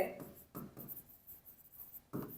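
Pen or pencil strokes on paper come in short scratchy bursts during a Bengali maths lesson on workers and days, close and quiet, with a few brief pauses between strokes.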